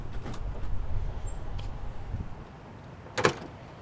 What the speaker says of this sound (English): these doors open phenomenally